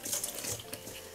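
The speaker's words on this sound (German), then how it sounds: "Und dann kommt Wasser hinein." Tap water running steadily into a tall bowl holding flour for overnight bread rolls, a continuous close splashing pour with no talking.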